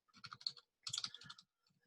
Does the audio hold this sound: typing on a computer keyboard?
yes